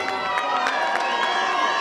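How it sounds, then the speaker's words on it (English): A crowd at an Enfusion kickboxing event in The Hague cheers and applauds for the fighters, a loud continuous wash of shouting voices and clapping with no pause. "ladies and gentlemen, your applause for Juan Javier Barragan and Ismael Benali."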